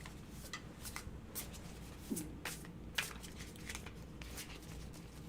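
Soft, rapid riffling and slapping of tarot cards being shuffled, repeated in short bursts with brief pauses, fairly quiet and close, no talking.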